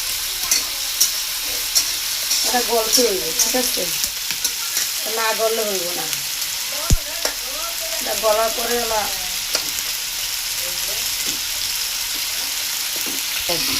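Onion and tomato frying in a pan on a village stove, a steady close sizzle with scraping stirs, while someone talks over it throughout.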